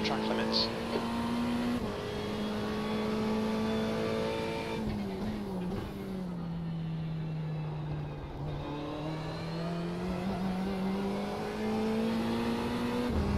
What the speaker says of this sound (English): Turn off the engine noise.